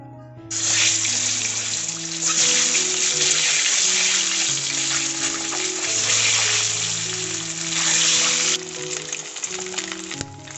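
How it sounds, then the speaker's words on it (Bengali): Eggs fry in white oil seasoned with turmeric and salt in a wok, a loud, continuous close hiss that runs unbroken for several seconds before easing slightly near the end, with faint tonal sounds underneath. "এবার ওই তেলে ডিমগুলোকে ভেজে নেব"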